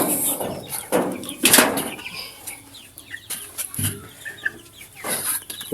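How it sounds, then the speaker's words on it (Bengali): Many chickens clucking and squawking inside a crowded two-storey poultry farm, with busy overlapping calls, occasional wing flaps and louder bursts close by throughout. "এটাই হচ্ছে সেই আমার দোতলা মুরগির ফার্ম"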